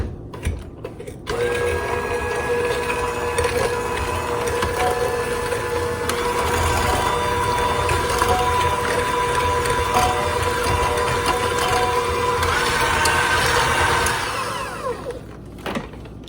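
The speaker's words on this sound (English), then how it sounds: "I am going to use the electric mixer." An electric mixer whirs steadily through cookie dough, a loud continuous motor drone with a rattling, slightly varying pitch, starting after a short pause and winding down near the end.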